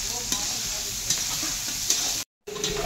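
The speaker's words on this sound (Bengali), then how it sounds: "এই তো পেঁয়াজ এখন ভাজা হচ্ছে।" Onions frying in a pan for chicken biryani give a steady, close sizzle with a few stirring scrapes, broken by a brief silent gap near the end before the sizzle resumes.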